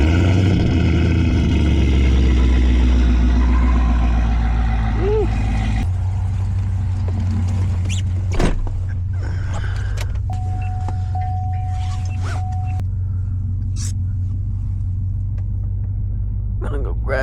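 A Cadillac CTS-V starting from cold, a loud deep engine rumble at first that settles into a steadier, quieter idle, with a few faint clicks and a brief tone later on.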